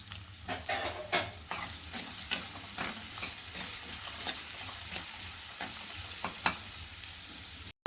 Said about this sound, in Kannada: ಈರುಳ್ಳಿ ಫ್ರೈ ಆಗ್ತಿದೆ ನೋಡಿ